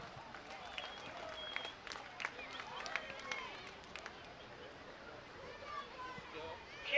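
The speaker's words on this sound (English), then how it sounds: "give a round of applause for Jonathan Weber" Faint, distant applause from a crowd at a car race, scattered claps and murmurs carried over open air with some voices mixed in.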